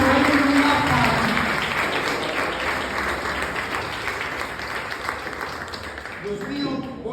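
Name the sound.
congregation applauding loudly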